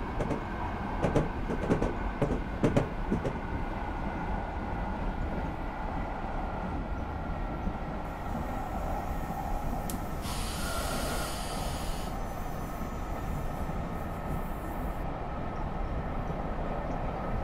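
A commuter train led by a cab car passes in the opposite direction near a flyover, heard from aboard an F59PH-hauled train as a steady, close rumble with a burst of brighter rail hiss midway.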